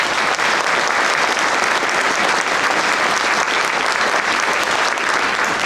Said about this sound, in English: Give a special applause for them.